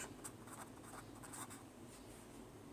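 Soft, continuous scratching of writing during an Arabic grammar lesson, faint and steady over a hissy background with brief brighter strokes, with no talking.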